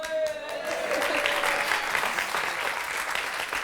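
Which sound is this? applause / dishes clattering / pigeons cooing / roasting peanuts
applause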